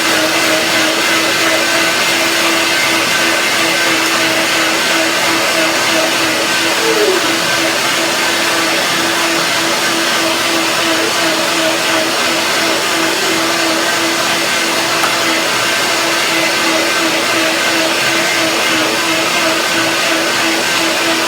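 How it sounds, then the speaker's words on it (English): A blender whirs continuously as it purees a curry cashew cream for a tomato broccoli salad, a loud, steady motor drone that holds one even pitch throughout with no pauses and no talking. "Now blender dance."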